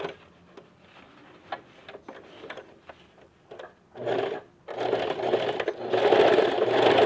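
A sewing machine stitches patchwork for a zippered pouch, backstitching along the seam: a few slow ticking stitches, then steady fast runs of stitching growing louder, close by, with no talk.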